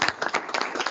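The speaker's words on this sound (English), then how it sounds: "give a round of applause for" A brief burst of hand clapping from a small group, quick and uneven, lasting under a second.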